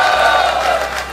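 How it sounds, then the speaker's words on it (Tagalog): Crowd at a Fliptop rap battle reacting in a brief, loud burst of noise with cheering and clapping, close and dense for about a second. "pumalakpak naman kayo!"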